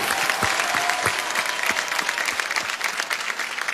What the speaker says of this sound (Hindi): उनके लिए एक जोरदार ताली बनती है सर